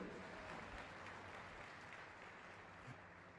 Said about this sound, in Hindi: ताली बजाओ परमेश्वर के लिए जोर से।